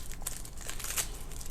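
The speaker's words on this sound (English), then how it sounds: "So cut it in half, do the peeling," Papery skin crinkling and tearing as it is peeled off a halved sweet onion, a few soft close crackles over a short moment.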